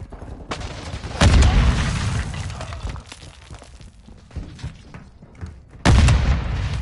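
Two heavy booming blasts in a shooting game, one near the start and one near the end, each with a rumbling tail over a background of gunfire.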